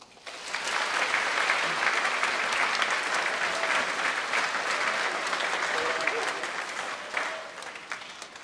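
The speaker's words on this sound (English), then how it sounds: "Let's give him one last round of applause" A school academic award ceremony crowd gives a long, dense round of applause that holds steady for about eight seconds before tapering off, with a few voices faintly mixed in.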